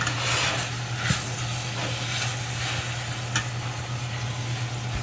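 Apples sauté in a pan for homemade muffins, giving a steady, close sizzling hiss with faint stirring and a low background hum throughout.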